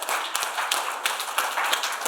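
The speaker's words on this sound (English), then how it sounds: "Please give them a big round of applause." Workshop audience clapping for winning teams, a brisk close burst of hand claps with distinct sharp individual slaps within the patter.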